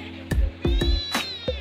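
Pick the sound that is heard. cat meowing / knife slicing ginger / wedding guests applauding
cat meowing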